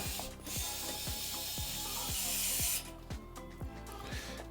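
A Vessel ball-grip electric screwdriver set to its lowest torque backs a screw out of a bicycle wheel with a rapid, rhythmic ratcheting clatter of evenly spaced clicks and a whirring motor. The clicking continues at close range.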